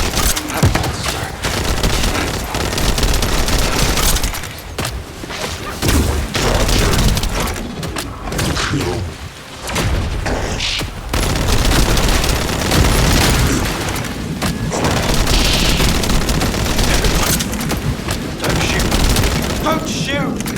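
Heavy gunfire and booms in the sci-fi shooter The First Descendant, dense bursts and blasts filling the whole stretch loudly, with a voice speaking over the fighting.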